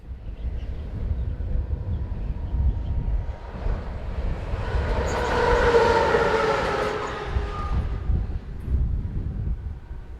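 An MRCE Dispolok locomotive, number 193604, on hire to TXL Logistic, rolls past on a European railway; its steady rumble swells to a loud peak midway and then fades again, with no talk.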